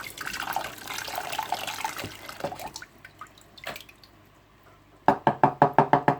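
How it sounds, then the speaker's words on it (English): Running water and splashing give way to a quiet pause, then a quick series of about seven sharp knocks as a glass spice jar is tapped in cold water. "Just tap it away in the water, in that cold water"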